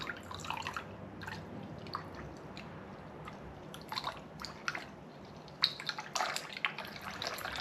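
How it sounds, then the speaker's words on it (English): Liquid poured from a bottle held high into a shot glass or glass, a continuous splashing trickle with dripping, spattering bursts, heard close and alone. "I used to see how high I could pour the bottle into the shot glass, or the glass even"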